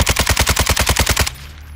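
A rapid burst of about a dozen automatic gunshots from an enemy in a shooter video game, loud and even-paced, cutting off abruptly into quiet.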